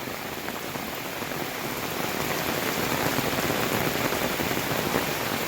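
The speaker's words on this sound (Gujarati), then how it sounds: "એ માર વરસાદ આવ્યો છે" Heavy rain pours steadily in a dense, even hiss of drops hitting the ground, swelling slightly louder partway through, with no voices.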